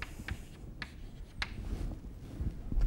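Chalk or marker scratching across a board in short separate strokes, a few quick taps and scrapes spaced through a quiet lecture-room background.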